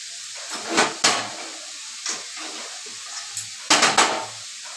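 Snake gourd with jackfruit seeds cooking in a pan with tempered spices, a soft sizzle under a few sharp metallic clanks of a utensil against the pan, close with quiet gaps between.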